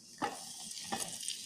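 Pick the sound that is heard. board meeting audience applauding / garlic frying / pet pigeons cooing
garlic frying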